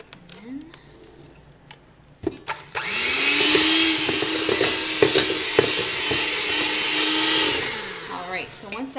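An electric mixer whirs steadily through coffee cake batter for several seconds, loud and close, after a short start, with a speaking voice before and around it.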